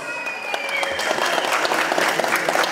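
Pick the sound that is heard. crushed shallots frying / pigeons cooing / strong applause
strong applause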